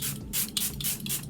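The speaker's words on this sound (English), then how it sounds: "I'm gonna use this Ruby Kisses Matte Oil Control Setting Spray." Ruby Kisses Matte Oil Control Setting Spray misted from its bottle in several quick, close hissing bursts, loud and alone with no voices.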